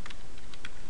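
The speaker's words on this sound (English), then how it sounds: "type all that information in" Quick burst of keystrokes on a computer keyboard, several clicky taps close up over a steady background hiss, no voices.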